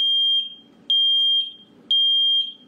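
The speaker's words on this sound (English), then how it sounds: "It's just good to have a smoke detector." A smoke alarm emits three loud, shrill electronic beeps at a steady rhythm, each followed by a short gap, with nothing else heard.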